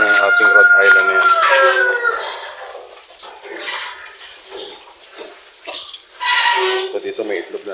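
A Rhode Island rooster crows close by, a loud, drawn-out call at the start, followed by more barnyard sounds and someone talking.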